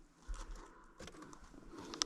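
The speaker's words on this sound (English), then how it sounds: "It's a particular bird that I hear a lot of up here" A soft bird call coos faintly a few times against quiet outdoor background, distant and intermittent.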